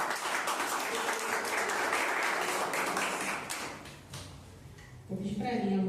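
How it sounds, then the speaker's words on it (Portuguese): A church congregation claps in praise during a service: a wash of many hands clapping together, fading partway through, with a voice speaking and sounds of movement near the end. "As palmas louvam ao Senhor."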